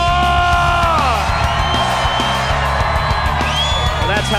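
Crowd at a monster truck event cheering, whooping and yelling loudly and continuously, a dense roar of many voices close up, with individual shrill yells rising above it.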